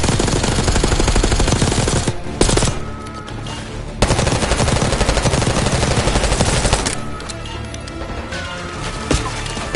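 Hostile automatic gunfire in Call of Duty Black Ops 6 rattles loudly and almost continuously, dense machine-gun bursts with a brief lull before the firing resumes at full intensity.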